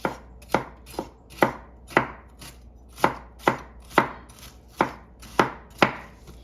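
A knife chops vegetables on a cutting board for a Southern oxtail stew, landing about a dozen sharp, close thuds at a fairly even, unhurried pace, with no talking.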